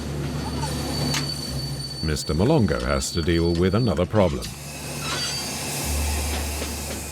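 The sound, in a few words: Hirondelle train on rails in Congo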